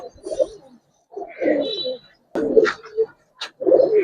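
Giribaz aluminium silver pigeons coo close by in a quiet loft, several soft throaty bursts separated by short pauses.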